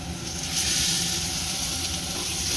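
Fish roe, added with ginger-garlic paste and a little turmeric, fries in a pan with a loud, continuous sizzle and hiss up close, steady throughout with no talking.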